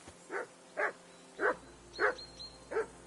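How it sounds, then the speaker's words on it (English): Five evenly spaced barks from a dog in the medieval video game Kingdom Come: Deliverance, clear and moderately near against a quiet ambient hum, with no talking. "I assume you can hear that damn dog of yours barking."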